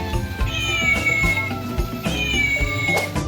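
A toy cat doll gives a series of electronic meows, close and fairly loud, set against busy background music with no talking.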